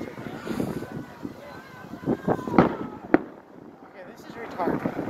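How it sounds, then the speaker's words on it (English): New Year's fireworks going off outdoors, a few sharp bangs and cracks standing out over wind noise and people talking nearby, with irregular bursts rather than a steady barrage. "Fireworks land right there, but they're going up there."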